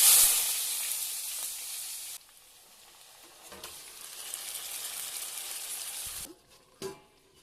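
Bay leaf and chopped cinnamon hitting hot oil just after potatoes were fried, for a mutton curry: a loud steady sizzle that drops sharply after two seconds, then a softer frying hiss with a few stirring clinks near the end.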